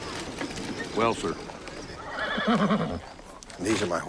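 Horses whinny and neigh loudly in bursts at close range, with hooves clip-clopping beneath, in an outdoor Western-film scene.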